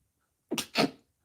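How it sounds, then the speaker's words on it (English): A single close, loud sneeze with a sharp two-part burst, surrounded by silence. "I might have to sneeze again"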